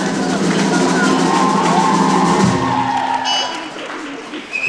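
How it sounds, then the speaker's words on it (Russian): Dense, loud applause from a concert audience greeting a band in Belovo, a steady roar of hands that thins out and fades after a couple of seconds. "Давайте их бурными аплодисментами поприветствуем еще раз"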